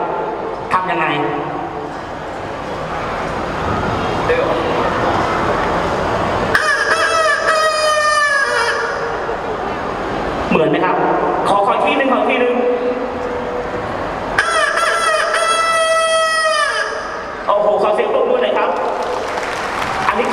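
Chicken calls imitated on a traditional Thai musical instrument at a dramatic arts college performance, two long sustained squawking phrases with rising and falling pitch, loud and close, with a lively crowd and talk between them.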